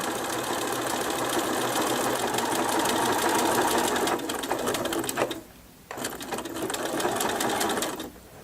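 A sewing machine runs steadily as it stitches a locking stitch on a fabric coaster. It whirs continuously and close, pauses briefly near the end, then restarts for a short final burst.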